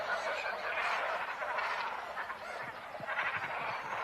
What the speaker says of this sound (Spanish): En un lago forestal de las inmediaciones hay una colonia de cormoranes.